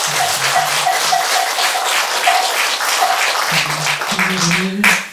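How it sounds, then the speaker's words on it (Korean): Audience clapping at a Buddhist temple dharma ceremony honoring a senior monk, a steady wash of applause with faint tonal sounds in the background and a brief sharper noise at the end. "다시 한번 우리 큰 스님께 박수 보내주십시오"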